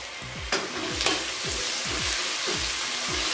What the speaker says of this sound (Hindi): दरमियानी आंच पे इनको फ्राई करना है।